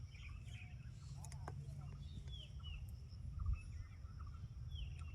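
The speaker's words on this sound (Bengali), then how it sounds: "আমি সাউন্ড পাচ্ছি, পাখির সাউন্ড, কোনো গাড়ির সাউন্ড না।" Birds sing and chirp outdoors in fresh open air, small calls scattered faintly over a steady low rumble of wind, with no vehicles heard.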